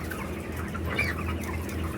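Broiler chickens about 26 days old cluck continuously in a controlled-environment poultry farm during weighing, a close, busy chorus of overlapping clucks with no talking.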